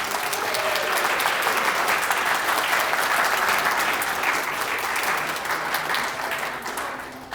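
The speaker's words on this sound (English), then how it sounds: "a huge round of applause for our graduates" A large crowd at a psychiatry and behavioral sciences graduation ceremony gives a sustained, loud round of applause, dense clapping holding steady throughout and easing only slightly near the end.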